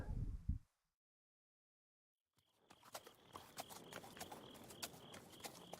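Horse hooves clip-clop at a steady walking pace in the video game Kyonyuu Fantasy 4, a repeated run of close, moderately loud hoof strikes that begins after a short silence, with a brief voice heard at the start.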